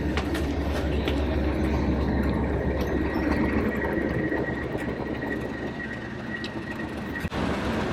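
A passenger train rolls into Norwich Station and terminates there, a loud, steady rumble of wheels and carriages with a faint high squeal running through it and a brief knock near the end.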